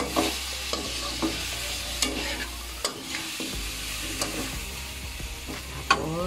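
Chopsuey vegetables with cauliflower and chayote are stirred in a hot pan, a soft sizzle under repeated scraping and clinking strokes of a utensil, close and moderately quiet.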